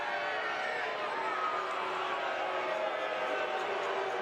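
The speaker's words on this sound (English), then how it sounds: "Again, crowd a little unsettled because it just seems like the sequence is taking a little bit too long." An uneasy stadium crowd at a Tampa Bay Rowdies versus Miami FC soccer match gives off a steady, distant wash of murmuring and scattered voices, with no distinct cheers or chants rising out of it.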